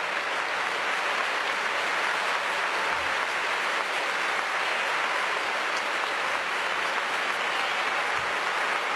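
Sustained applause from a large baseball stadium crowd honoring a retiring pitcher, dense and even, continuing at full strength from start to finish.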